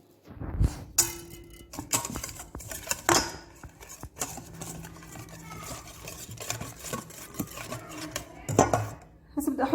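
A spoon stirs egg, sugar and vanilla together in a bowl, with repeated clinks and scrapes against the dish that come in uneven bursts, close up, with a few quiet sounds between strokes.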